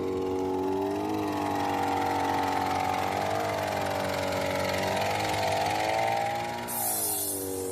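Mitsubishi Pajero engine idling with the bonnet up, a steady close droning hum with a constant mechanical whir and slight waver, loud and continuous throughout.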